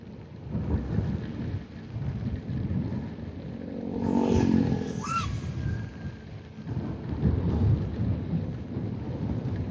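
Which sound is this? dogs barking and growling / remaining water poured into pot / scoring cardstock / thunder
thunder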